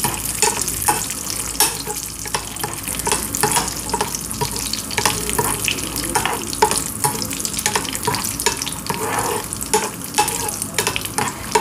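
Cashews and raisins frying in a pan for Palada Payasam, with a steady loud sizzle throughout and repeated scraping stir strokes at an even rhythm; no one speaks.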